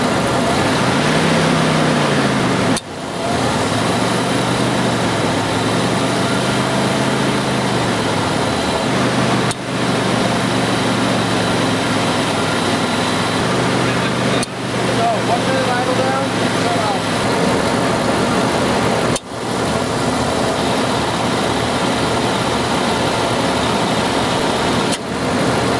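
A Dodge Dakota 4x4 5.2L engine held at about 1200 RPM during an R-12 to 134A air-conditioning retrofit: steady loud running drone with a few brief dips, close by, with speech.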